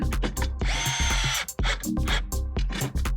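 A power drill-driver spins an 11 mm deep socket on a bolt while mounting traction boards on a Toyota Tacoma cab rack, giving loud repeated whirring bursts with brief pauses and clicks between them.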